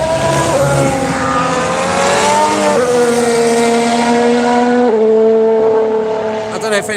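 Honda Formula 1 race car engine, its high-pitched whine holding steady and then stepping down through gear shifts across the run, loud and continuous, with a voice talking over it.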